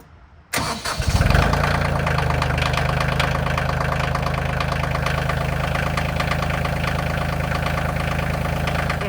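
A Kioti CK2620 compact tractor's diesel engine cranks and catches after a brief quiet moment, then settles into a loud, steady, knocking idle that continues close by for the rest of the clip, with no one talking.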